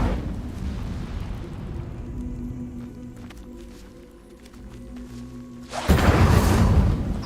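An Incendio fire spell is cast in the video game Hogwarts Legacy, giving a roaring fiery burst that swells loud near the end, after a stretch of rumbling game ambience.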